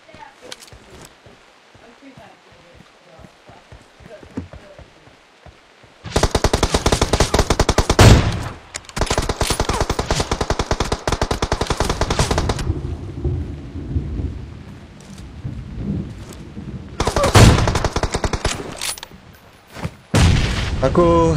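Gunfire in the battle royale video game Apex Legends: loud bursts of rapid automatic fire in several long volleys, with quieter pauses between them and a final short burst at the end.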